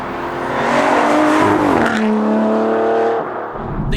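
Aston Martin V12 Vantage S, 595 bhp V12, driven on the road: steady loud engine drone with rising and falling harmonic tones as it accelerates, a shift-like dip near the middle, then continued strong cabin-heard roar.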